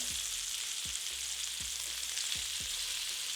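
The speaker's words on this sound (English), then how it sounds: "Let it sear on this side for just a minute or 2." Chicken searing in a hot pan gives a steady, close hiss of sizzling fat, constant and even throughout, with occasional soft low thumps beneath and no talking.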